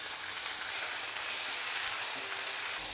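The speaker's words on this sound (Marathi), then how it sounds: "आता आपण हा लसूण थोडासा घालूयात आणि उभा चिरलेला कांदा घालूयात." Garlic, sliced onion, green chillies, cauliflower and peas sizzle in a hot pan for a millet pulao, a steady close hiss of frying with no voices.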